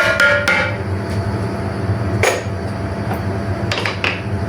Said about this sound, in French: Alors, on met ça au four.